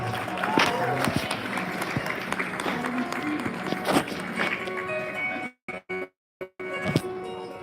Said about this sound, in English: please give Vishwa a nice big round of applause